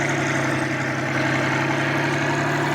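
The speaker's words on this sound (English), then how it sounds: "Oh yeah, this tractor's feeling this. This is not a problem for it. The revs are good." Tractor engine in Farming Simulator 22 holding a steady, loud mechanical drone at constant revs, with a strong low hum running continuously throughout and no talking over it.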